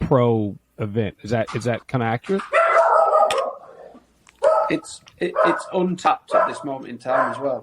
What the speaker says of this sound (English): apologies for the dog barking in the background